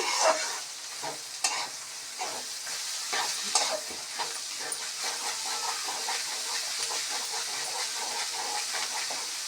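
Bitter gourd curry with ginger paste is stirred in a pan, a steady sizzling hiss broken by repeated scraping strokes of the spoon, close and alone with no talk.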